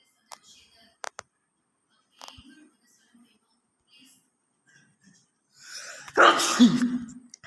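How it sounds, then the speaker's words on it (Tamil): A single loud, close human sneeze bursts out near the end, preceded by a sharp inhale and scattered quiet clicks and faint rustles in an otherwise hushed room. "எனக்கு கொஞ்சம் தும்மல் வந்துச்சு"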